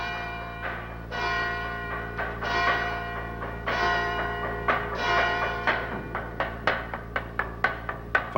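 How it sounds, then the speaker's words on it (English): Church bells ringing on Mount Athos to call monks to a service, rich resonant strikes sounding in irregular succession and then quickening into a faster, evenly paced series of clanging hits, moderately near with a lingering ring. "First, bells indicate a service will soon begin."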